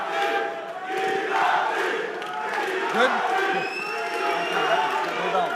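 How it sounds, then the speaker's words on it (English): Georgian fans chant and shout in an arena crowd at an East vs West arm-wrestling match, a loud rhythmic roar of voices with whistles and cheers, while someone speaks briefly over the noise. "Listen to the Georgian contingent in the crowd here."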